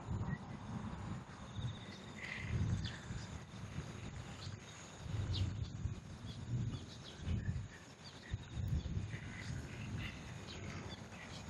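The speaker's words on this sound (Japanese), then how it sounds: "鈴みたいなこの音が鈴虫か。" Bell crickets (suzumushi) chirp outdoors at night, a faint, steady high-pitched ringing trill that carries under soft rustling and low rumbling noise during a walk.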